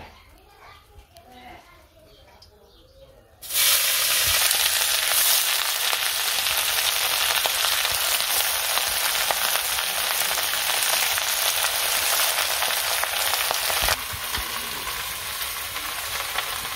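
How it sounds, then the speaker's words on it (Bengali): Malabar spinach drops into hot oil in a home kitchen. After a few quiet seconds a loud, steady sizzle starts and keeps crackling close up, easing slightly near the end. Faint voices are heard in the background. "তেল দিয়ে দিলাম পুঁইশাক দিয়ে পুঁইশাকটা"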